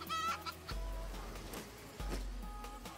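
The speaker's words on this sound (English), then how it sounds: "But now I need to feed the new chickens" Chickens cluck in a farming video game, a few soft short clucks over a faint background hum, quiet and close.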